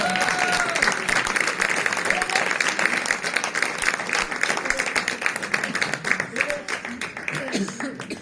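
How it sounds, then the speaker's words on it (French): Continuous crowd applause for hip-hop performers at a show, with steady dense clapping and scattered voices and whoops over it, tapering slightly near the end. "On peut les applaudir quand même, nos reines."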